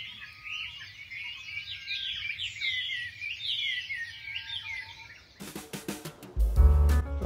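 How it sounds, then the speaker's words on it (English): Dense chorus of birds chirping and singing on a foggy spring morning in Kamakura, Japan, steady and moderately near, then cut off by a burst of louder clattering and thumps near the end. "Listen to those birds."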